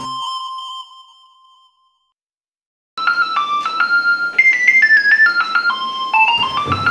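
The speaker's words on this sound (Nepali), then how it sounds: "बाबाले फोन गर्नुभयो" A mobile phone ringtone for an incoming call plays as a melodic electronic tune of stepped beeping notes, loud and close, following a short faint tone and a moment of silence.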